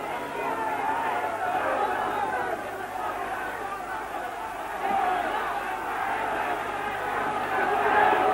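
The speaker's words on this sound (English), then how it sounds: "this crowd now sensing that Charlie's in trouble, and they're crying to him to keep out of trouble" A boxing crowd roars and shouts continuously as a boxer gets into trouble, a dense, loud wall of voices swelling slightly toward the end.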